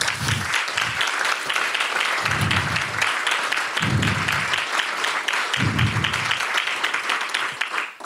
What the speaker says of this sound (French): Pour eux, je voudrais qu'on applaudisse très fort.